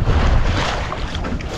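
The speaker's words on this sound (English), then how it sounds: "every now and then we get hit with those big gusts of wind" Strong wind gusts buffet a sixty-year-old trailer sailer under way, a loud, close roar of wind across the microphone mixed with rushing water, with no talking.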